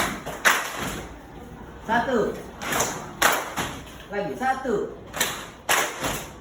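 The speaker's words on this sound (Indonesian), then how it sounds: "kalau Bapak bilang satu, tepuk pahanya gini" Classroom students slap their thighs together on a teacher's count, producing several sharp, loud group slaps spaced a second or two apart, with the teacher's voice speaking between them.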